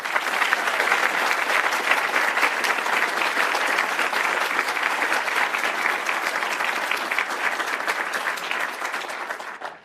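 Sustained audience applause welcoming Senator Ted Cruz to the stage, steady dense clapping at full strength for nearly ten seconds before tapering off at the end.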